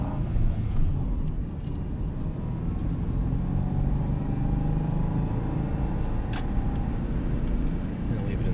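A 2005 Subaru Forester 2.5XS with a manual gearbox pulls up an on-ramp in second gear, its engine a steady, full low rumble and road drone heard from inside the cabin, holding an even level throughout.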